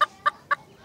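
A chicken gives three short, evenly spaced clucks at close range, fairly loud against an otherwise quiet background.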